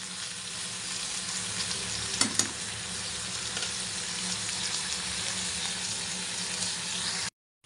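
Prawns and fish fry in hot oil in an iron wok, giving a steady, close sizzle throughout with a couple of brief clinks, then cutting off abruptly near the end.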